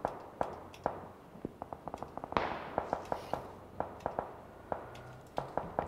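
Grenades and gunfire pop in a PUBG match as a series of sharp, faint bursts scattered irregularly with short gaps, one heavier blast near the middle, no talk over them.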